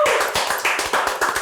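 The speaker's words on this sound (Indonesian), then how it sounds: "jadi kita kasih tepuk tangan sekali lagi buat Cupi-Cupita." A small group gives quick, rhythmic clapping for a guest on a comedy podcast, close and brisk for a second and a half with no voices.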